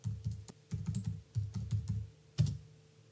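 Typing on a computer keyboard, a quick run of close, crisp key clicks in short uneven bursts with brief pauses between them.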